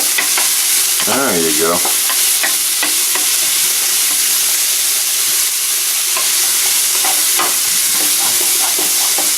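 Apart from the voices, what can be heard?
onion frying and sizzling in a pan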